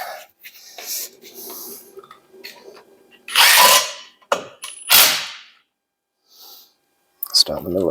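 A power drill runs nuts down on a Ford Model T in short, loud bursts of whirring and rattling, separated by pauses, with a person speaking between the bursts.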